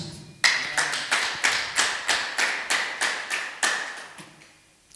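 A congregation claps hands in unison, about a dozen loud, evenly spaced rhythmic claps that gradually soften and fade out, with a final single tap at the end.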